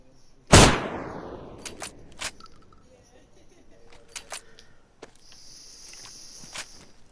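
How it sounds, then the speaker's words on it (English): A double-barrel shotgun fires in a DayZ survival game: one loud, sharp blast with a long decaying tail, followed by a few fainter clicks and handling noises and smaller cracks, no talking over it. "and then we'll do a sound from the double barrel"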